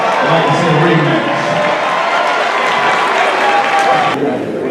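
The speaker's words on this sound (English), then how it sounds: "A round of applause if you'd like to see a rematch." A crowd at a live boxing promotion in a casino claps and cheers for a rematch after a unanimous draw, dense continuous applause filling the room with voices mixed in, cutting off abruptly near the end.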